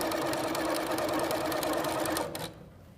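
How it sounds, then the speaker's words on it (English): A sewing machine stitches quilt half square triangles in a fast, steady mechanical whir with rapid needle ticks, close by, then stops abruptly near the end. "we're going to sew on both sides of the line"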